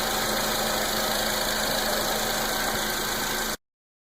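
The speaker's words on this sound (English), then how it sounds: "obviously car running, got the AC turned on" A 2008 Nissan Sentra engine idles with the air conditioning on and its compressor clutch engaged, a loud steady close hum and whirr with a constant tone that continues unchanged until cutting off abruptly near the end.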